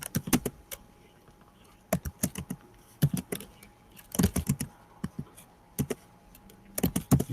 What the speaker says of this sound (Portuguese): e aí eu vou digitar 3 filmes só